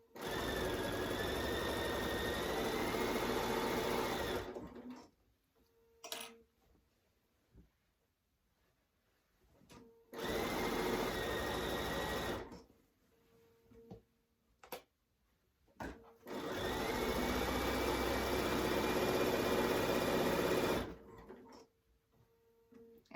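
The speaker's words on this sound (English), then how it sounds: "I am just going to continue sewing." A sewing machine stitches a tote bag through thick fabric in three sustained runs of a few seconds each, separated by quiet pauses with small clicks and handling sounds, close and alone.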